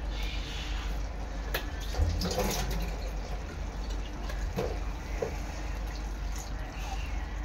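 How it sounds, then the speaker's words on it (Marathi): Water is poured into a black-eyed pea and potato curry in a pan, a steady gurgling splash running for several seconds at close range. "ह्यामध्ये ना मला थोडंसं पाणी कमी वाटतंय, तर मी पाणी ऍड करणार आहे."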